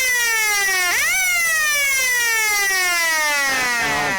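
A loud electronic siren sounds at a local Australian football match between East Point and Darley, one long sustained wailing tone that dips and rises near the start, holds steady, then drops again at the end, with no talk over it.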